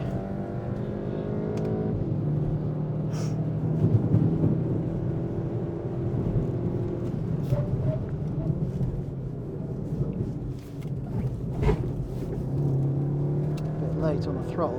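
A car on a race track during a tyre test, its engine droning and revving hard in-cabin across a long stretch, with the pitch shifting through gear changes and a voice speaking over it at times.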